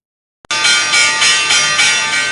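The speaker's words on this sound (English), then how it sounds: "Big bell coming your way." The stock market opening bell rings loudly and continuously after a short silence, a bright metallic clang pulsing in rapid repeated surges, with no talk over it.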